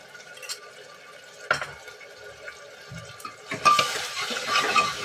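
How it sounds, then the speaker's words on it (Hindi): Garlic-ginger paste spooned into mutton cooking in a home kitchen: a few light spoon taps, then a soft, wet sizzling hiss that rises and lingers near the end. "लहसुन अदरक का पेस्ट डालती हूँ मैं इसमें।"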